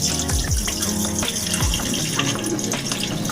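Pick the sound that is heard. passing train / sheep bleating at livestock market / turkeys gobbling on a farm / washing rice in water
washing rice in water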